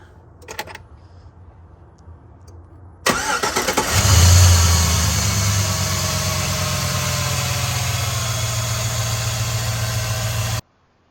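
After a few quiet clicks, a 1999-2013 LS V8 pickup truck engine cranks and catches with a loud burst, then settles into a steady, rumbling idle until it cuts off.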